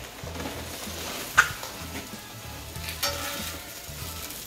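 Potatoes steaming in butter on a Blackstone griddle give a steady close sizzle, with one sharp scrape-and-thump as they are flipped and a smaller clatter later.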